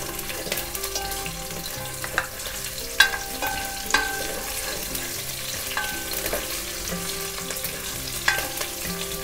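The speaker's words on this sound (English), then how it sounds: "Now it's time to add our green chilies." Green chilies frying in hot oil in a pan for moringa dal, a continuous crackling sizzle with occasional sharper pops and stirring clinks, close and steady throughout.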